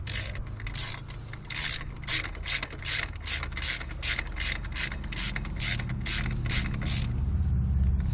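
A ratchet rapidly clicks while tightening the power steering/alternator belt on a 1997 Subaru, a close, crisp run of about a dozen evenly spaced bursts over a low mechanical hum, with no talk.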